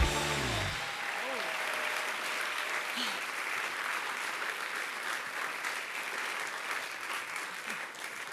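An audience applauds to welcome a comedian onto a late-night comedy stage, a dense, sustained wash of clapping that starts just after a brief announcing voice and continues steadily to the end.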